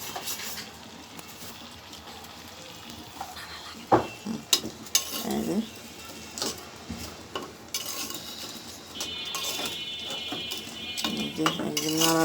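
Beef with mustard oil is stirred in a clay pot over a clay stove, with repeated knocks and scrapes of a metal utensil over a faint, steady sizzle.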